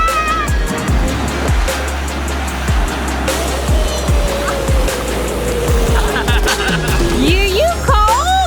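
Ocean waves break and wash up on a sandy beach in a steady surf roar, with people talking and calling out nearby over the water.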